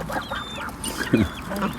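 An American duck with a duckling riding on its back gives a few short nasal quacks close by, separated by brief pauses, with faint chirping in the background.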